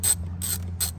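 A ratchet loosens an 8mm clamp on a car engine, making three quick, close, metallic clicking bursts at an even rhythm over a low steady hum.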